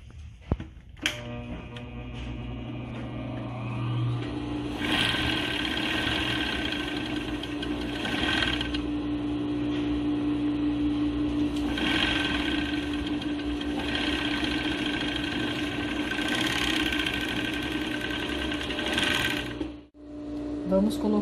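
Domestic sewing machine stitching the second side of a duck-bill fabric face mask, running in long steady bursts with brief pauses, close and loud, mostly without talk.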